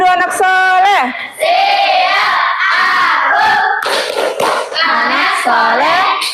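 A classroom of young pupils chant the Indonesian 'tepuk anak soleh' clapping rhyme together, loud shouted sing-song voices with rhythmic hand claps and a few thumps, filling the room at close range.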